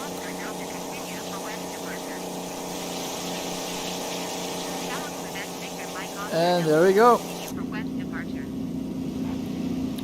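Steady drone of a Supermarine Spitfire Mk1a engine heard from the cockpit in Microsoft Flight Simulator, a continuous layered hum with a short warbling tone midway, while someone speaks briefly over it.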